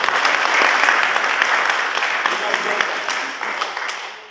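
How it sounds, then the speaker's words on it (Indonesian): A church congregation breaks into warm applause for mothers, with many hands clapping in a full burst that gradually thins and fades toward the end. "Iya, tepuk tangan bagi ibu."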